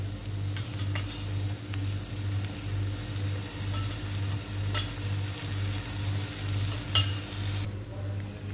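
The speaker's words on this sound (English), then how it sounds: "give this a good stir so that each piece of paneer is coated with the curry" A curry mixture with curd and paneer stirred and frying in a pan, a steady low sizzle under a few sharp spoon scrapes and knocks against the pan, close and continuous with a constant hum beneath.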